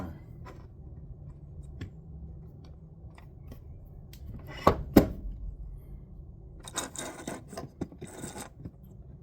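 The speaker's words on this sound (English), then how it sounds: "I'm going to run my deburr tool around that case and make sure it's good and clean" Deburr tool scraping around a brass cartridge case, heard as faint close scratching and rasping with a couple of sharper clicks midway and a busier burst of scraping near the end.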